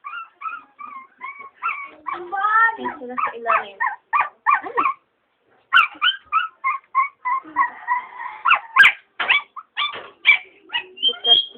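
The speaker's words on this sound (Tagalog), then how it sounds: "daming mga tuta." Several puppies yip, bark and whimper in rapid, overlapping bursts close by, with a short pause midway and a person speaking briefly among the cries.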